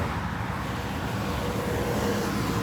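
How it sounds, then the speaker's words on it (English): Steady road traffic with cars driving past, a continuous broadband rumble and hiss that stays near and even throughout, with no voices. "the cars look like they not even moving that fast"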